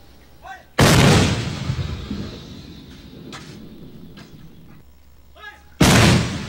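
Two loud, booming Army artillery cannon blasts about five seconds apart in Sulu, each with a sharp onset and long rumbling decay, with faint voices in between.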